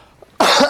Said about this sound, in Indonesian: dia batuk aja tuh anggun gokil